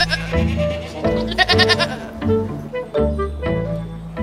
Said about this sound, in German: wir haben da sehr typische Ziege jetzt da vor uns, also typische Blobe-Geiß